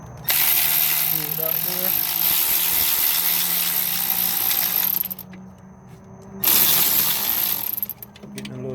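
A Snap-on cordless power ratchet whirs loudly and continuously for several seconds, stops briefly, then runs again while loosening a 14 mm alternator bolt on a 2009 Toyota Corolla, with someone speaking briefly nearby.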